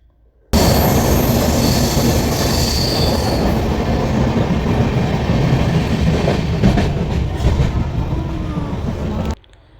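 A passenger train roars through a large tunnel, a loud continuous rumble with wheel squeal and rattling carriages that starts abruptly and runs steadily before cutting off.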